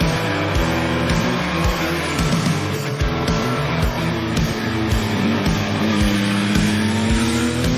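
A 2021 Yamaha MT-09 SP motorcycle engine under way, a loud, continuous throaty drone with rising and falling pitch as the rider works through revs, close and steady throughout.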